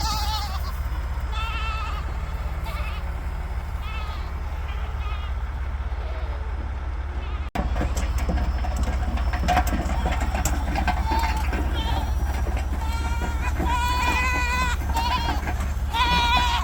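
Goats bleat repeatedly in quavering calls, some near and some farther off, over a steady low engine idle from traffic stuck on a fire detour, with a person speaking briefly.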